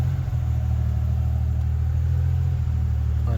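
Deep, steady Buick engine rumble close by, running on bad gas, a low droning hum with only slight swells in intensity as it is revved.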